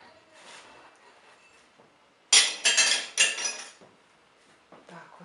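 Dishes, pots and cutlery clatter and clink together while being cleaned and sorted in a kitchen, with a loud burst of rattling metal and crockery in the middle, fainter handling sounds before and after, and no talking.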